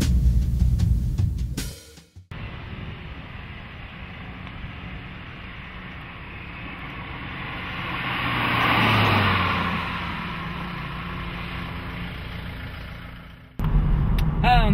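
A 2010 BMW Z4 with a roughly 2.5-litre, 204 hp engine accelerates from inside the cabin, a steady muffled engine drone swelling in the middle and easing off, with a brief louder burst at each end.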